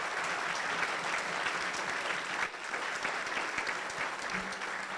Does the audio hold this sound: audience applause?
yes